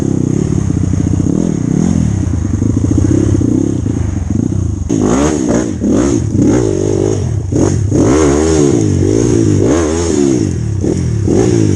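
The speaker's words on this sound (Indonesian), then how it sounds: "Yang tadi suara motor teriak-teriak." Loud, close motorcycle engine revving hard on a rough trail ride at Parangloe, pitch rising and falling repeatedly in throaty bursts, with rattling and clattering underneath.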